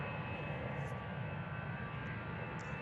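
Airbus A320 jet departing a runway at Amsterdam Schiphol Airport, a steady loud engine roar filling the whole stretch without a break, heard up close with no talking.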